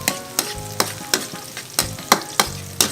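Garlic and onion sautéing in a pan for adobong pusit, a steady sizzle cut by a regular rhythm of about eight sharp spatula scrapes, close and fairly loud, no talking.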